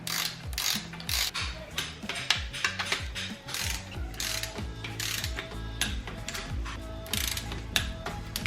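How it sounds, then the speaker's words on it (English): Torque wrench ratcheting while KA24DE engine bolts are tightened in steps to 40, giving repeated close bursts of metallic pawl clicks in uneven strokes with brief gaps. No one speaks. "Now I'm gonna bring up my torque wrench to 40."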